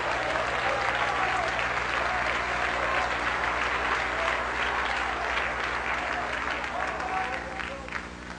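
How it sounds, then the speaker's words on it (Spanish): A church congregation breaks into loud, sustained applause that fills the room and fades slightly toward the end, with some voices mixed in. "Denle un aplauso grande a Jehová de los ejércitos."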